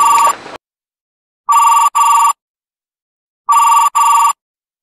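A telephone rings in classic double bursts, two pairs of loud electronic trills separated by silence, following a brief cut-off ring at the start.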